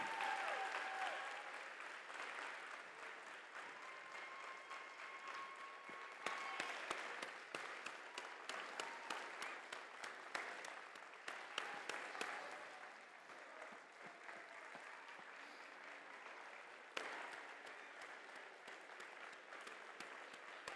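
An audience applauds volunteers at a FIRST in Texas robotics event in Fort Worth, a steady, full round of clapping from a large crowd in an indoor venue that carries on for about twenty seconds with scattered louder claps.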